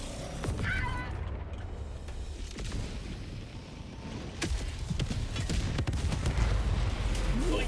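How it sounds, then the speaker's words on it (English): Explosions and gunfire in the video game Helldivers 2, a dense, continuous barrage of booms and shots, with sharp bursts layered over a rumbling low-end roar throughout. "Things are exploding! A lot!"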